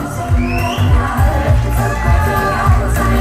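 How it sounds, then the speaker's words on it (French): Audience at an outdoor guinguette pageant cheering and whooping for a contestant, loud and close, with shouts and bangs over thumping background music. "Qu'on peut applaudir très fort."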